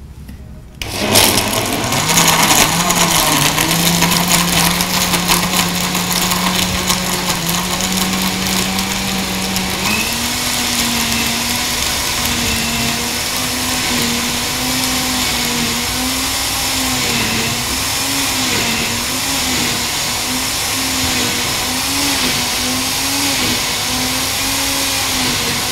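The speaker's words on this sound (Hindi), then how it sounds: "अच्छा, ये अब हम इसको ब्लेंड करने जा रहे हैं।" A blender whirs steadily for about 25 seconds, blending a banana, pistachio and saffron shake in a studio kitchen, with a loud, continuous motor drone that shifts slightly in pitch partway through and no talk over it.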